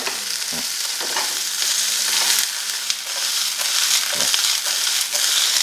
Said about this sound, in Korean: 그 다음에 버섯 종류를 볶아주시는 게 좋아요.